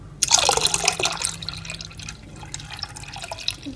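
Milk pours into a small glass for homemade bubble tea, a close liquid splash and gurgle that starts strongly and tapers off into a softer trickle.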